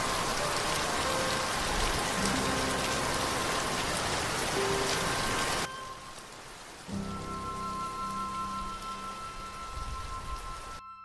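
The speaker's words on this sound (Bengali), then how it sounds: "বৃষ্টির তোর ধীরে ধীরে বেড়েই চলেছে তখনও।" Rain sound effect in a cartoon story: a steady, dense downpour hisses throughout, drops to a lighter level about halfway, then returns nearly as full. No one speaks.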